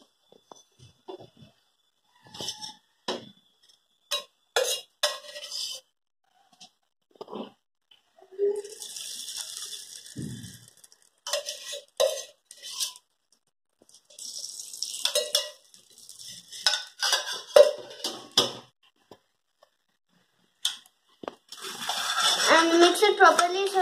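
Makhana (fox nuts) stirred in ghee in a pan, giving scattered scraping and rattling strokes with soft sizzling, alternating with stretches of talk and a louder burst of stirring near the end.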